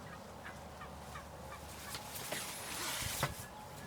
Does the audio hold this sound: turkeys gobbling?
yes